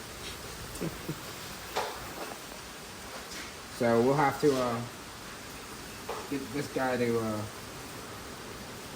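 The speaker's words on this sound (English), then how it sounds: "all that noise you're hearing is the pouring rain outside" Steady broadband hiss of heavy rain pours throughout, with someone talking briefly over it in two short stretches.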